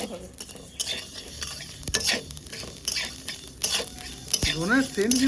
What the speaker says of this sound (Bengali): দারুণ লাগে যখন ভাজা হয়